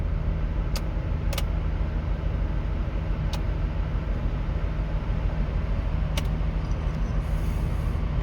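A Land Rover Range Rover Sport, showing a rear brake fault, runs with a steady, loud engine drone throughout, with a few sharp clicks scattered over the continuous noise.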